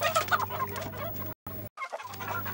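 Free-range chickens on a small farm clucking loudly and continuously nearby, a busy cackling chorus that drops out briefly for a moment before resuming.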